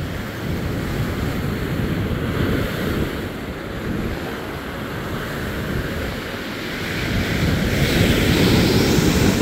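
Sea waves rush and crash continuously in a storm on the beach at Arkhipo-Osipovka, mixed with gusty wind buffeting the microphone, growing louder toward the end.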